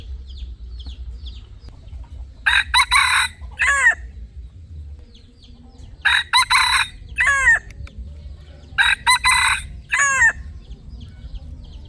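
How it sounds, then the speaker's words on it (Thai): A fighting rooster crows loudly and close by, three times in a row, each with a harsh rising then falling call. Quieter clucks and soft farmyard background noise fill the gaps between the crows. "เดี๋ยวเฮามาฟังเสียงขันของไก่ตัวนี้เบิ่งครับ"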